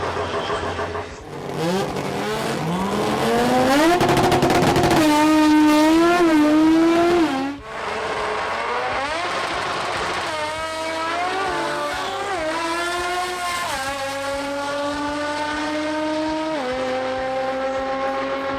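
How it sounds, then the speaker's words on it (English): Drag racing cars, including a Datsun in the All-Motor final at Jamboree Sydney 2018, accelerate hard with loud, rising engine notes that climb through gear changes and continue close and continuous. "In Freight Management Australia All-Motor, number 1 qualifier Mark Costanzo in the Datsun went up against Jason Studley in the finals"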